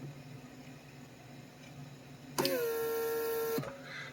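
Mercedes W140 S-Class door lock vacuum pump starts abruptly and runs with a steady electric whine for about a second, then cuts off, close up in a quiet car.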